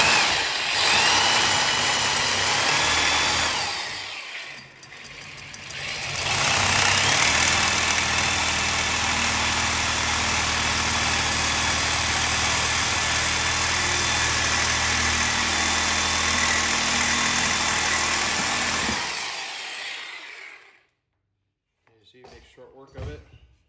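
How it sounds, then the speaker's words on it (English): An automotive demolition tool fitted with a demo blade runs loud and steady for about fifteen seconds while cutting on old steam radiator pipework in an 1884 house, then winds down and stops, leaving a few faint clicks. "So what I'm using is just an automotive demo tool,"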